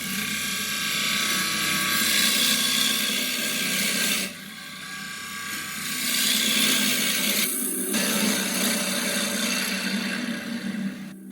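Wood spinning on a lathe is cut with a blunt-tipped turning tool, a steady loud motor hum with a rough scraping drone that drops away briefly and then resumes, close and continuous.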